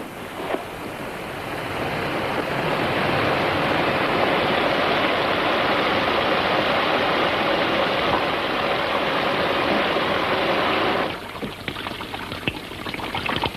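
A shower runs with a steady hissing rush of falling water that builds up over the first couple of seconds, holds evenly, then cuts off abruptly, leaving faint drips and rustles.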